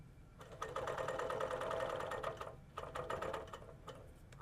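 A sewing machine stitches a shallow continuous curve along a quilting ruler, its needle running in a steady rapid hum for about two seconds, pausing briefly, then resuming in short bursts, close and moderately loud with no talk.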